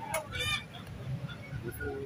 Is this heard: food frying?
no